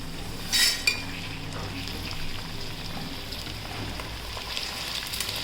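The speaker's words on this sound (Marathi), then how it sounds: "आता डाळ्या, बडीशोप आणि तीळ हे आपण तेलात टाकूया." Roasted gram, fennel seeds and sesame seeds fry in hot oil for poha chiwda, a steady soft sizzle with a bright clatter as they are tipped in and stirred, a voice speaking over it.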